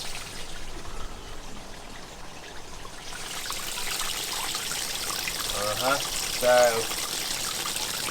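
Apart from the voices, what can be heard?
water pouring from a hose into an inflatable hot tub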